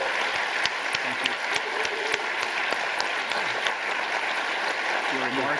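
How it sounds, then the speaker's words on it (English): An audience applauds a speaker at an endowed chair presentation, a steady wash of many hands clapping at moderate loudness throughout, with a few voices briefly audible near the end. "let's have another round of applause for a wonderful speaker"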